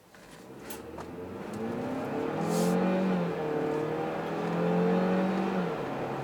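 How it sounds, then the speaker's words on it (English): A 2017 Chevrolet Cruze Hatch RS turbo engine accelerates from inside the car, its drone rising and swelling steadily over about six seconds, with no talk. "When the turbo kicks in, it just kind of pushes you back in the seat"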